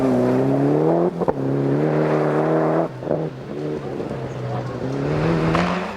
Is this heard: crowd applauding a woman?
no